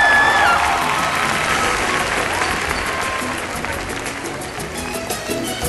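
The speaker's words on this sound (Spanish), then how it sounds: "Yo quiero un fuerte aplauso para ellos." A large crowd applauds loudly and steadily at the Premios Nuestra Tierra 2008 awards ceremony in Colombia, a dense, sustained wash of clapping that thins slightly toward the end, with no talk over it.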